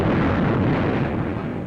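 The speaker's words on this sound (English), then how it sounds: "Thousands of tons of aerial bombs are rained upon Tarawa's waterfront and beachheads" Deep, sustained rumbling booms of aerial bombs exploding on the Tarawa waterfront and beachheads in 1943, blending into a continuous heavy roar, loud and close.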